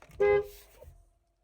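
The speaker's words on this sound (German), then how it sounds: "Ich habe gehupt." A single short car horn honk from a Mercedes-Benz, loud and close, sounding for about a quarter second before fading into quiet.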